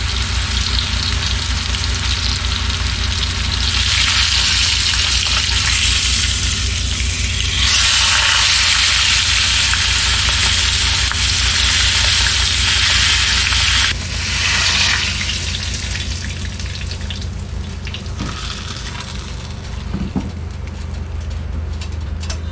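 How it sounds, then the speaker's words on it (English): A tri tip roast sears in a hot pan with a loud, continuous sizzle that swells and eases in waves, sometimes with brief crackles, and no talking. "Now that everything is nice and seared"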